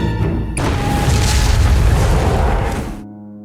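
A loud boom from a film explosion bursts in after a short lead-in and roars for about two and a half seconds, then cuts off abruptly.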